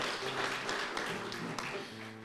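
An audience at a regional awards ceremony in Katowice breaks into broad, steady applause, a fairly faint wash of many hands clapping together with room hum underneath.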